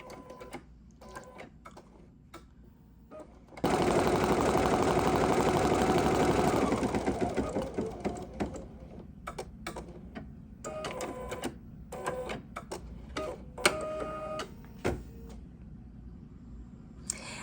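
An embroidery machine stitches the first thread color of a design. A loud, dense mechanical clatter starts around four seconds in and fades after a few seconds, leaving quieter intermittent ticking and tapping from the machine.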